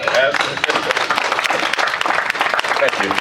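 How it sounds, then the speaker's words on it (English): A panel audience applauds with brisk, scattered clapping that swells and wavers, while brief voices and cheers cut through the crowd noise. "Let's give a round of applause for that."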